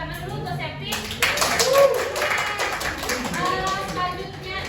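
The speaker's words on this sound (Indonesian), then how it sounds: "Tepuk tangan dulu untuk Septi." A classroom of students claps briefly for a classmate after a peer tutoring explanation, a short burst of clapping with speech around it.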